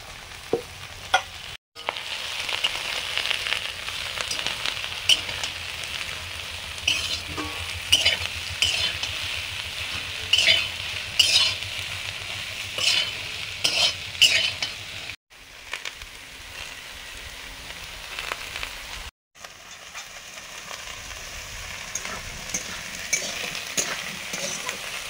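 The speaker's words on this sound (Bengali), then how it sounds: "আলু ভাজা হয়ে গেছে।" Potatoes fry in a pan with a steady sizzle, punctuated by repeated spatula scrapes and knocks, close and fairly loud, with a few brief gaps.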